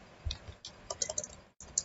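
A computer keyboard gives a quiet series of light, irregular key clicks with brief pauses between them.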